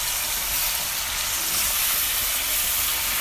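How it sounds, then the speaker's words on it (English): Oxtails for stew are stirred in a hot pot, giving a loud, steady sizzle and frying hiss that runs the whole time with no talking. "So now it's time to stir up the oxtails."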